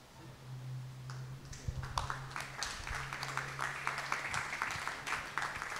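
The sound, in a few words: audience applause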